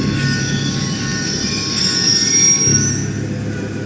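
A train rolls past in the Black Ops 2 shooter, a loud, continuous rumble with screeching wheel squeal and a rising metallic whine toward the end, no voices.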